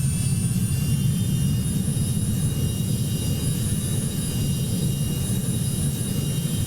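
Engine of an air ambulance plane in the Roblox game Project Flight, heard from behind the aircraft as a continuous low roar with a faint high whine above it.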